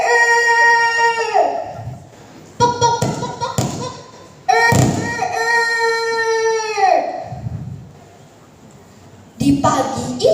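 Voices imitate roosters crowing in turn, long drawn-out calls trading back and forth, close and loud, with short thumping pauses between the crows.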